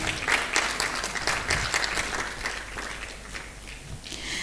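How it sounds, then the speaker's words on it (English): Conference audience applauding a speaker at an event on women's participation in governance, steady dense clapping throughout, moderately loud with crowd ambience. "Please a round of applause for her."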